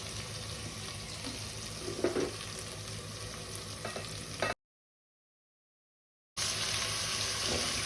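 A kilogram of chicken sizzles in a pan over fried ginger-garlic paste, a steady bright frying hiss with stirring scrapes, cut by a short silent gap before the sizzle resumes.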